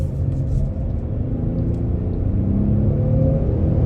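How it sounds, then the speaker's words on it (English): A 2023 Kia Telluride X-Line AWD engine pulling at half throttle, heard from inside the cabin as a steady, loud low rumble and drone that builds slightly over a few seconds, with no talking. "And we'll step on the gas again."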